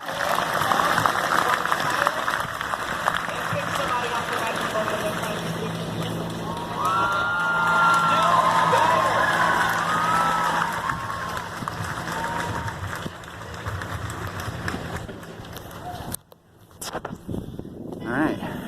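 A rally crowd in Olympia, Washington, near the Capitol: a dense, continuous murmur of many voices with scattered shouts and cheering, heard up close in open air before cutting out briefly near the end.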